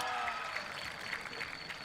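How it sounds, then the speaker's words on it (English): Faint, distant applause from an Italian crowd at a junior men's trap shotgun final in Lonato, a soft patter of clapping that holds steady throughout. "The Italian crowd is getting behind one of the athletes"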